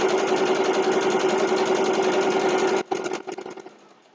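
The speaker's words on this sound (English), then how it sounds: "if you're sewing along, you go ahead and get ready to go ahead and sew" Rapid, steady mechanical whirring of a sewing machine stitching a fabric potholder runs continuously, then stops abruptly and trails off in a few slower stutters, all close and alone.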